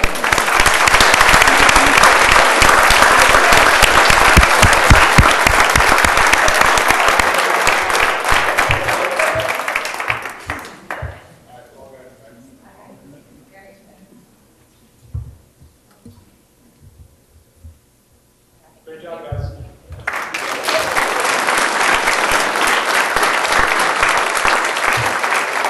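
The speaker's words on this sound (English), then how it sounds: "Could you please give them a round of applause?" A crowd applauds loudly and steadily for about ten seconds, falls quiet with a few scattered sounds, then bursts into sustained clapping again.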